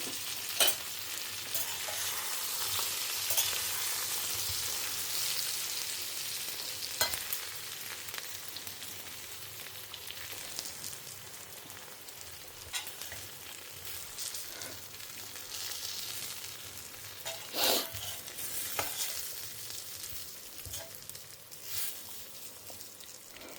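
Vegetables and spice powder sautéing in a pan for a Kerala-style raw papaya curry, a steady close sizzle broken by the scrape and clatter of a stirring spoon at intervals, with no speech.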